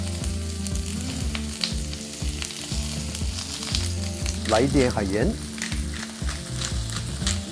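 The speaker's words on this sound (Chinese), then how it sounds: "我们的番茄跟我们的虾子，加一点橄榄油，番茄煎一下。" Shrimp and tomatoes sizzle steadily in olive oil in a hot pan, a loud continuous frying crackle with brief stirring scrapes midway and a short spoken remark over it.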